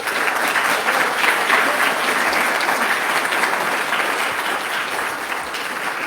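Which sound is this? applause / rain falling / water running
applause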